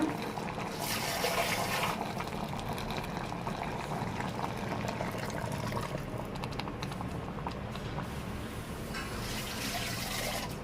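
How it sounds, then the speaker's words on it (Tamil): Water pours steadily into a pot of mutton curry, a continuous splashing gurgle that stays close and fairly loud for around ten seconds with no one speaking. "உங்களுக்கு தேவையான அளவு தண்ணி ஊற்றிக்கோங்க"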